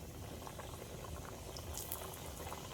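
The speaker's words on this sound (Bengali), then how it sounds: "এইগুলোও ভেজে নেবো" Small khaja pastries deep-fry in hot oil with a soft, steady bubbling and fizzing, faint and continuous throughout.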